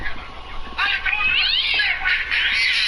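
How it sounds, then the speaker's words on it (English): A cat meows and caterwauls in drawn-out, wavering cries, loud and close, several calls in quick succession over a quiet background. "Man, I am fighting cats."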